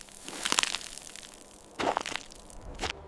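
Dry salt crust of a desert salt flat crunching underfoot, a few sharp crackling breaks separated by quiet pauses, close and crisp.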